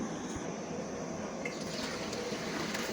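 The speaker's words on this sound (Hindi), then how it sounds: "जैसे कि आप ये देख रहे हैं कि हमने चावल बिल्कुल अभी छान रहे हैं," Water pouring and splashing steadily as cooked rice drains through a strainer, a continuous liquid rush close by with no speech.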